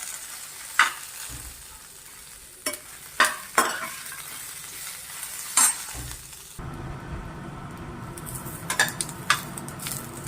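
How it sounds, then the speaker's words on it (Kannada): Red chutney ingredients fry in oil with a steady close sizzle, broken by sharp clinks and scrapes of a spoon against the pan, with a louder busier hiss near the end and no talk. "ಚಲೋತ್ನಾಗಿ ನಾನು ಎಣ್ಣೆ ಒಳಗೆ ಹುರ್ಕೊಳಕತ್ತೀನಿ"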